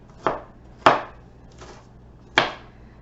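An onion diced with a knife on a cutting board, four separate sharp chops with short pauses between, close and clear with no talk.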